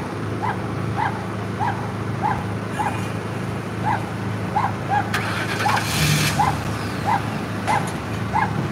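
Dogs at a homeless encampment during a sheriff's sweep give a steady series of high yips and whimpers at a regular pace, with a vehicle engine rumbling underneath and a brief clatter midway.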